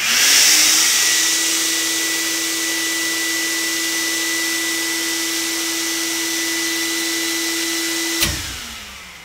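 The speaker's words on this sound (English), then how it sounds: "I turn on the vacuum cleaner." A vacuum cleaner runs steadily on a protective relay demo bench, a loud constant whine with a steady hum, then abruptly switches off near the end.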